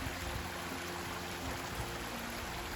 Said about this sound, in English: And more stream stuff.